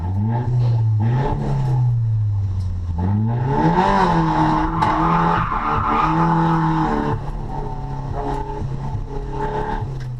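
A car drifting on track at Winton Raceway, with clutch kicks producing repeated engine revs that rise and fall over a steady loud drone, along with tyre squeal and skidding, heard continuously and fairly close.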